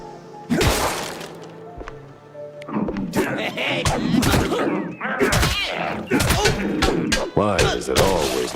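Firecrackers burst one after another inside a wooden attic in a video game, giving a run of sharp cracks and thuds with some crashing, close and loud, mixed with other game noises.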